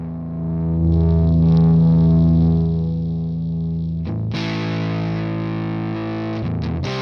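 High-gain distorted electric guitar played through a Quad Cortex amp capture with the gain cranked up, sustained chords ringing loud and saturated, then a fresh strummed chord near the end, with no talking.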